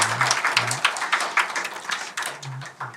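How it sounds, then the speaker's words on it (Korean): A church congregation claps to welcome newcomers at a Sunday service: a short burst of close, uneven clapping from a small group, with a low voice murmuring underneath. "우리 한번 박수로 우리 두 분을 환영하면 좋겠습니다"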